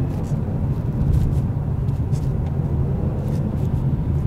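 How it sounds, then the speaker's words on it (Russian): A Jaguar XE engine drones steadily with a faint high supercharger whine riding over the low rumble, continuous and fairly loud. "Подвывание компрессора шикарное."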